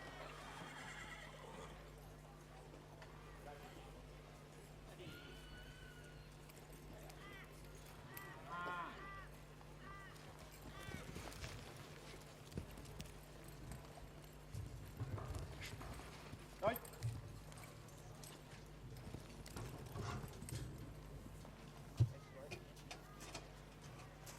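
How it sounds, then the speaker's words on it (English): At a cattle show, a horse gives several whinnies over scattered clip-clopping hooves, all moderately distant against a low ambient hum, with intermittent voices around. "In camp now, though, looking over his cattle, is competitor number 47, David Thorne, riding Kate"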